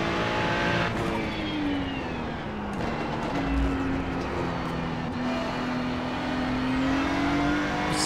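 Ferrari GT3 race car engine in the iRacing sim at Okayama, a steady loud drone with shifting pitch as it revs and upshifts through a corner sequence, continuous for several seconds with no talk.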